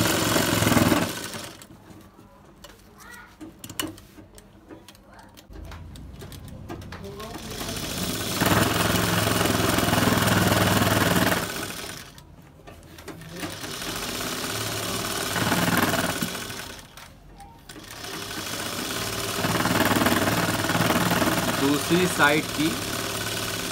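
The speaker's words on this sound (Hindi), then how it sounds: "ऊपर की सिलाई लगा दें हम" A sewing machine stitches the top seam of a Lucknowi gharara in close bursts of steady mechanical whirring, with pauses between runs and a person talking in between.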